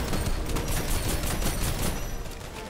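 The Stormhorn fires repeatedly in Fortnite, a dense loud barrage of rapid bursts keeping a steady churning rhythm all the way through, with no talking.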